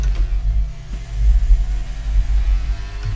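Racing cars in the F1 23 video game rumble on track at Austria, a deep, continuous engine drone with swelling and fading passes, loud and steady, with no voices over it.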